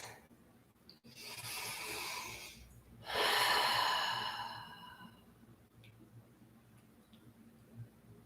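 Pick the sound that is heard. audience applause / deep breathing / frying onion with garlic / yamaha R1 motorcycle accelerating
deep breathing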